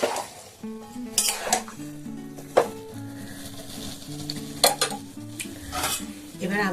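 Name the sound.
stirring and sautéing spices with turmeric in a pan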